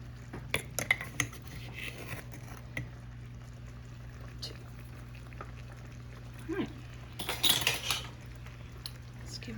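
A utensil stirs a sugar-sweetened sauce in a pan on a budget Polish cooking stovetop, with faint scattered scrapes and clinks over a low steady hum and a brief busier clatter near the end.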